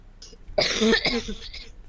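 A single close cough, one short harsh burst that fades into a brief raspy tail.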